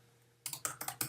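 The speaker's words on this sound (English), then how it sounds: "So now you just gonna type" A computer keyboard is typed on up close: after a quiet pause, about six quick, crisp key clicks come in an uneven rhythm.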